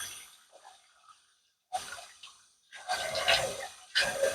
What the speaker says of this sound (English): You get this water nice and hot.